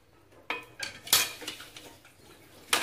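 A spoon stirs spinach stem curry in a metal pot, giving a few scattered scrapes and clinks against the pot over quiet pauses, fairly close and moderately loud.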